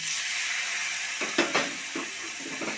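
Green peas hit a hot pan of cooked spices with a steady loud hiss, followed by several scraping stirs and knocks of a spoon.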